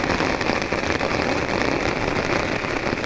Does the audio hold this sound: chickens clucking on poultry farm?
no